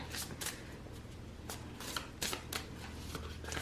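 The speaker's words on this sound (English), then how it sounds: "So whenever I run out of cards, I will pick up and reshuffle." A deck of playing cards is shuffled in quick repeated riffles, a soft close fluttering with regular bursts of snapping, fairly quiet with no talk.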